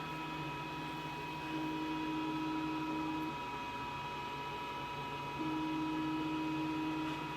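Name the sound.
XTOOL laser cutter cutting a project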